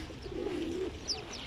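Small garden birds such as sparrows, great tits and blue tits call close by while being fed seeds, with a sustained mid-pitched coo-like note in the middle and a brief higher chirp near the end.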